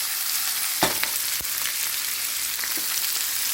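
Yellow onions sautéing in a pan, a steady close hiss of frying with a couple of brief knocks from a utensil early on, no talk.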